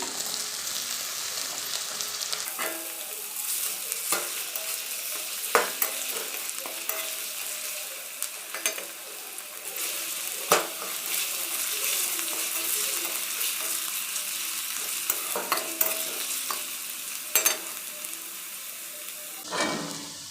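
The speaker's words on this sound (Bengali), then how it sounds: "আলুটা একটু ভাজা ভাজা হয়ে গেছে" Potato pieces sizzling with fried onions in a pan, a close, steady frying hiss broken by sharp scraping and clatter of stirring every few seconds, with no talk.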